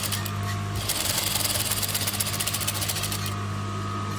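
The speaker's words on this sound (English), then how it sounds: "and you stitch." A sewing machine stitching jilbab fabric runs loud and close with a steady whirring, rapid mechanical chatter that picks up in speed through the middle before easing, with no talk over it.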